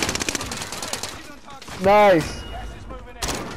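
Rapid gunfire in a video game shootout, quick bursts of shots at the start and again near the end, with excited players talking and shouting over it.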